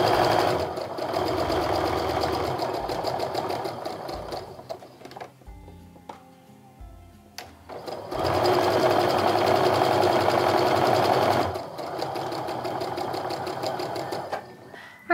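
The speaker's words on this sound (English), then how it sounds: "now I'm going to sew down the other side of that drawn line so that way I've got seam allowances on both sides of it" Sewing machine stitching quilt blocks along a drawn line, a fast steady mechanical whir running in long bursts with a short quieter pause in the middle, close and loud.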